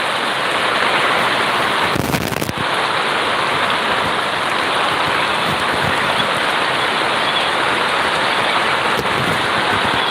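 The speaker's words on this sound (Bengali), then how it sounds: "বৃষ্টিও করতেছে বাতাসও হচ্ছে" Steady, loud downpour with wind hisses continuously, with a brief louder burst early on suggesting a gust; no one speaks.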